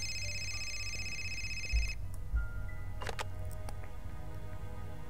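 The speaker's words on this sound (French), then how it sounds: "Téléphone!" A telephone rings in the video game Fahrenheit, a faint electronic tone that stops partway through, followed by clicks and handset noises over a low background hum.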